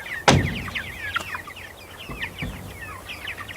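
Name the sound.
chicks and rooster clucking in the yard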